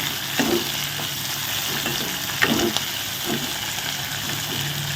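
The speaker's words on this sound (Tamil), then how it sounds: "வெங்காயமும் வதங்கிட்டு வருது நல்லா இன்னும் கொஞ்சம் வதங்கட்டும்" Onions sautéing in a pan for a tomato kuzhambu made with coconut milk, a steady hissing sizzle up close with occasional stirring clatters, even and unbroken throughout.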